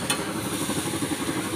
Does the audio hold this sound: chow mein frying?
yes